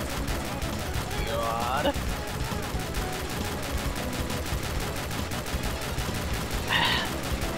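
A Dragunov sniper rifle in Modern Warfare 2 fires in a fast, even string of sharp cracks that continues throughout, while a man briefly calls out twice over the shots.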